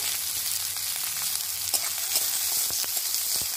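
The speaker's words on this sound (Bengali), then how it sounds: "পেঁয়াজগুলো হালকা লাল করে প্রথমে ভেজে নেব" A continuous soft sizzle of chopped onions and bay leaves frying in oil until lightly browned, with faint crackles and a low background hum.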